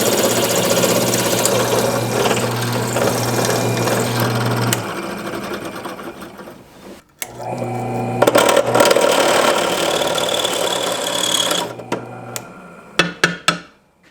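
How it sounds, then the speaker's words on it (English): Boring out a worn steel hole to a larger size on a 70-year-old dozer: a loud, steady mechanical whirring drone of the boring tool, cutting out briefly midway, resuming, then stopping with a few clanks. "I'm going to bore them both out to a size larger, so it's a nice clean hole"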